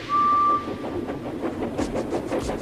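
Steam engine train from the Trainz video game, opening with a short sharp whistle blast, then rhythmic chuffing and rolling rail noise running steadily at moderate loudness.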